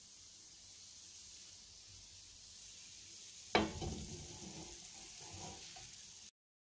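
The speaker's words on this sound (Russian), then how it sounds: "Печем панкейки на хорошо разогретой сковородке, но на медленном огне." Fluffy American pancake batter meets a well-heated pan over low heat, a sudden sizzle bursting out midway and then settling into a softer, steady frying hiss before cutting off.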